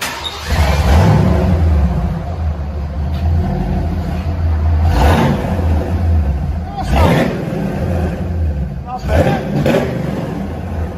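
A Ford Mustang 5.0 engine revs repeatedly in loud bursts, rising and falling several times, with people talking over it.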